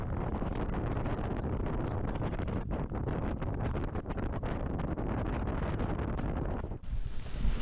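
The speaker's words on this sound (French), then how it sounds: "on remarque ça, c'est un grain." Strong, continuous squall wind roars and buffets the microphone on a sailboat at anchor off Fernando de Noronha, with gusty rumble and no letup, ending in a brief softer hiss.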